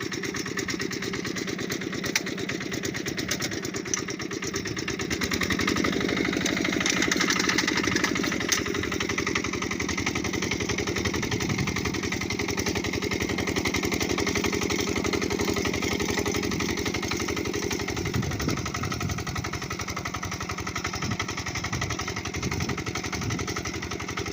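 A tractor engine ploughs a field in winter, running steadily with a continuous mid-pitched drone that swells and dips slightly as the load changes, close and loud, with no talk.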